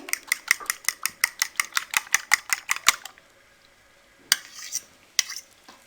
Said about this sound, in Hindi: अब अंडों को अच्छे से बीट कर लें।